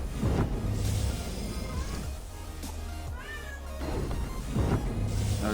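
A cat meows repeatedly nearby, drawn-out and insistent calls with short gaps between them, some sounding almost like yowls.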